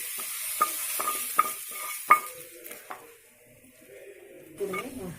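A spoon scrapes and clinks against a metal pan while a spiced mixture is stirred and transferred into a pressure cooker, with a soft sizzle between the irregular knocks.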